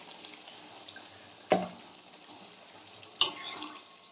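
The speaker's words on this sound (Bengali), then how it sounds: "আমি এখন এটা জল দিয়ে ঢেকে দেব।" Water is poured into a pot of vegetarian curry on the stove, two short splashy pours separated by a pause, close and fairly quiet against a still kitchen.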